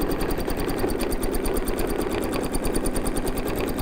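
A sewing machine stitches fabric for a tufted purse using a zigzag stitch, a close, steady, rapid mechanical chatter with even rhythmic needle strokes that continue without pause and with no talking.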